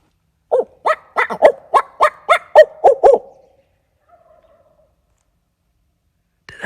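Repeated gobbling of a Merriam's wild turkey on a New Mexico hunt, about ten sharp rapid calls in a loud close burst, then quiet.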